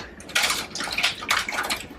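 Water splashes and gushes in two bursts as fettuccine nests are dropped into a pot of boiling water, with a steady watery hiss underneath.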